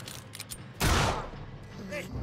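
A single loud gunshot-like blast erupts amid quieter game noise and faint clicks in the video game I Am Alive, with a long fading tail.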